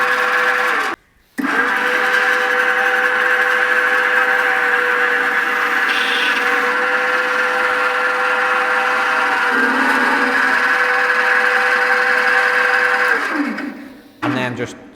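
Beer can seaming machine sealing a can, a loud, steady mechanical whine that holds for several seconds, cuts out briefly near the start and winds down at the end, with no speech over it.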